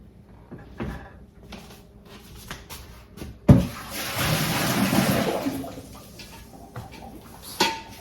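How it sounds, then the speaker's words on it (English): Water poured out of a cooking pot in a home kitchen while processing apples, a brief loud splash and gush lasting a couple of seconds amid quieter handling clatter. "So let me dump this water."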